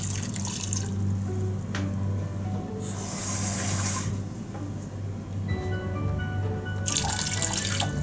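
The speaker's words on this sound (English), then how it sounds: "Then I'll add water to it." Water runs steadily into a metal pot of taro root for a curry, a continuous close splashing pour with brief louder bursts of spray.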